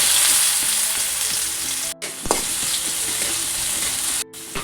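Garlic and shallots fry in coconut oil with popped mustard seeds and dried red chillies, giving a loud, steady, close sizzle with scrapes of stirring and two brief gaps in the sound.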